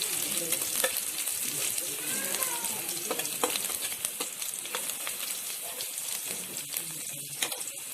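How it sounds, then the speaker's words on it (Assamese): Masala made with five-spice and onion sizzles steadily in a pan while being stirred, with frequent clicks and scrapes of the spatula over the continuous frying hiss. "মই পাঁচফোৰণ আৰু পিঁয়াজ দি পেলাই ভালকৈ মচলাটো মই ভাজি লৈছোঁ"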